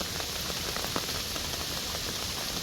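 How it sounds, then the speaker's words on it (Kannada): Heavy monsoon rain in Udupi pours down in a dense, constant hiss of drops on surfaces, loud and unbroken throughout. "ನಮ್ಮ ಊರಲ್ಲಿ ಸಿಕ್ಕಾಪಟ್ಟೆ ಮಳೆ"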